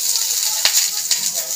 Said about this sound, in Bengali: তেল গরম হয়ে গেছে। ধুয়ে রাখা ঝিঙের চোকলাগুলো দিয়ে দেবো।